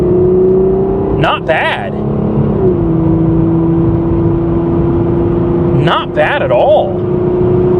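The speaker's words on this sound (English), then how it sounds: "so I'm going to flip it around and give it a little gas" A classic Mustang or Firebird accelerating, its engine a steady loud drone that drops pitch midway as it shifts, with someone speaking briefly over it twice.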